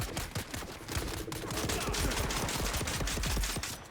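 Rapid overlapping gunfire in the desert-planet survival game Dune: Awakening, a steady dense fusillade of crackling shots held at moderate distance for several seconds, with no talking.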